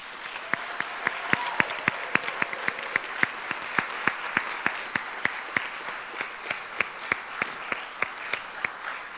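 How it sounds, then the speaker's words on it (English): A sparse, spread-out audience at a college baccalaureate claps for students, with individual sharp claps standing out in a fairly regular rhythm over a soft background of applause, moderately distant and steady. "So let's give them another round of applause."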